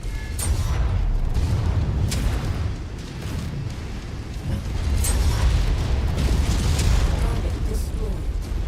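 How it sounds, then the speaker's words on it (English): A mech's reactor explodes in the MechWarrior 5 video game, a loud, sustained roar of deep rumbling booms with scattered sharp bursts and crackles that swell and ease over several seconds. "Reactor explosion."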